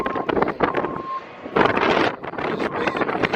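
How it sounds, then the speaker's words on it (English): Gusty wind buffets a microphone outdoors at a car auction lot, loud rumbling bursts that rise and fall unevenly, with a brief faint tone in the background. "It's so windy out here."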